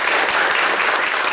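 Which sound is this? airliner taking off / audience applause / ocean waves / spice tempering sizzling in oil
audience applause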